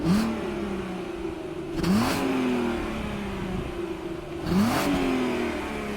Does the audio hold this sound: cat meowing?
no